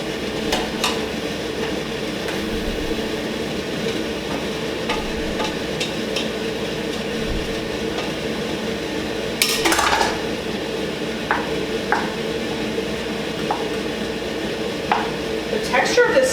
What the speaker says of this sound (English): I'm going to go ahead and add my noodles